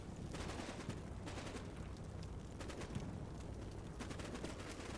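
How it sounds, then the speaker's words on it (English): Rapid bursts of AK rifle fire crackle from a Cold War battle in the video game Combat Mission: Cold War, several short volleys in quick succession at moderate distance over a steady background rumble. "They got one guy going ham there with the AK."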